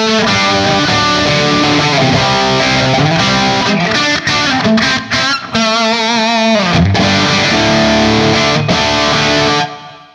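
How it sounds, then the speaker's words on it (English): Distorted electric guitar through a Marshall rig playing sustained chords and notes with a spacious reverb tail, loud and continuous, fading out at the end. "Reverb back on."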